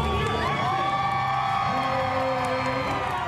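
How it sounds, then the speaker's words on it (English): Fans cheer for the Nashville Predators at Bridgestone Arena, a continuous crowd roar with whoops and shouts that holds steady and fairly loud throughout. "The team was welcomed at Bridgestone Arena last night by cheering fans and a gold carpet"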